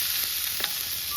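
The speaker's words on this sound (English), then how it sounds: "I have a really hot cast iron skillet. I only sprayed it with Pam. So I'm going in with these." Seasoned meat, sprinkled with Mrs. Dash, goes into a very hot cast iron skillet sprayed with cooking spray, giving a steady bright hiss of sizzling, close and even, with no talking.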